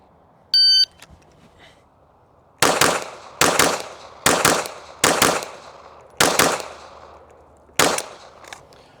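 Pistol fired in quick pairs on a shooting range, six sharp loud reports spaced in doubles across the clip, with a short electronic beep near the start and no talk.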